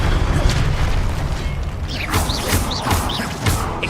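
Incendio, a fire spell in Hogwarts Legacy, is cast with whooshing bursts and booming pops over a steady low rumble, several rising swishes repeating in quick succession.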